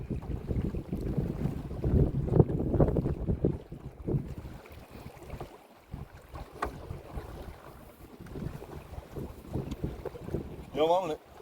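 A motorboat turns around on a river while out magnet fishing, its engine a steady low rumble mixed with wind buffeting the microphone and water noise, loudest early on and easing toward the end.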